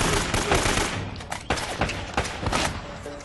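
Shotgun blasts and bursts of gunfire in the video game Uncharted: Drake's Fortune, several loud, sharp shots in irregular succession with thuds between them and no talking.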